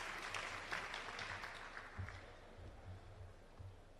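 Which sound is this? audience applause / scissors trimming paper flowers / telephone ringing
audience applause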